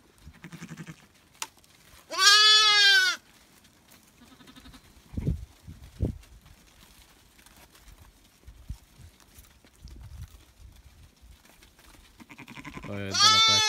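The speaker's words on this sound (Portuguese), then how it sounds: "Pegar a ovelha agora, né?" A Dorper sheep on a small farm gives two loud, drawn-out bleats, one early and one at the end, with quiet rustling and scattered soft knocks between them.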